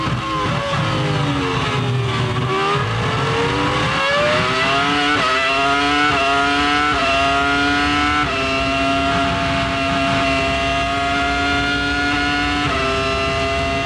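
Formula 1 Ferrari race cars from the 2002 season scream past with high-pitched engine notes, rising and shifting pitch as they accelerate and hold speed, loud and continuous with no talk.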